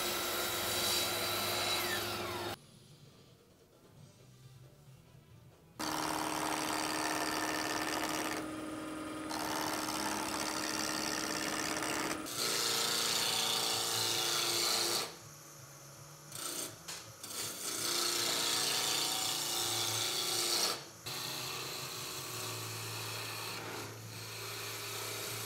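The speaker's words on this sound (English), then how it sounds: "Since these legs are going to be going on the lathe" Wooden bar stool legs spinning on a lathe as a tool shapes them round, a steady abrasive scraping hiss broken by several short pauses and resumptions, with a low motor hum underneath and no speech.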